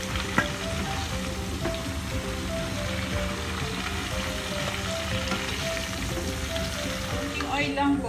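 Onions and bell pepper frying in a pan for a Chinese-style chicken dish, a loud continuous sizzle and crackle with occasional stirring, as a person speaks over it.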